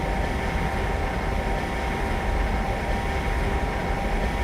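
An ICE 2 high-speed train runs steadily in Train Simulator 2017 on the Berlin to Leipzig route, a constant loud rolling rumble and hum with no break.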